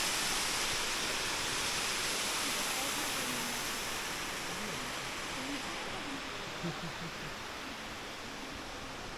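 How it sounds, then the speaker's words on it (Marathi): Steady, loud roar of a waterfall fills the whole stretch, a dense broadband rush with faint voices buried beneath it. "धबधबा बघा कसला आहे."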